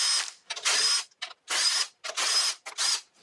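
Bursts of a ratchet or small power tool on 10 mm valve body bolts of a Toyota A140E automatic transaxle, six or so short, loud whirring spurts with brief pauses between them, up close.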